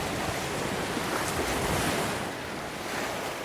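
Steady wash of waves breaking on the shore of Pangong Lake, a high-altitude lake in Ladakh, with constant wind noise over the microphone and no voices.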